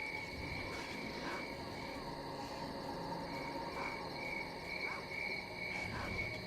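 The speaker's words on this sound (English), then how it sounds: "Hello, crickets." Night crickets in S.T.A.L.K.E.R. Call of Pripyat chirp in steady, layered high trills, faint and continuous, with occasional soft croaks and calls from other creatures beneath.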